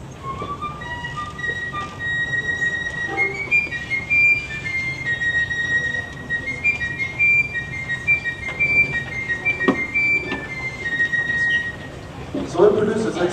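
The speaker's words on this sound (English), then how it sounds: "So this is the sound of the piccolo." A piccolo plays high, thin sustained notes and short trills in a band setting, fairly close and clear, running through most of the passage with a steady background hiss.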